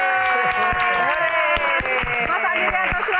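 Audience applause at a concert Q&A, clapping and light crowd noise under a steady tonal hum, with sharp individual claps standing out near the listener.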